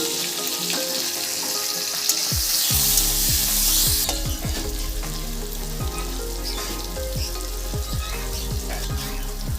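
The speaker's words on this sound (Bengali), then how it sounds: "টমেটোটা আমি হালকা করে ভেজে নিয়েছি" Chopped tomatoes fry in a pan for a Bengali potato and cauliflower curry, giving a loud, steady sizzle. A burst of hissing steam rises as they go in, and a spoon clatters and scrapes repeatedly as they are stirred.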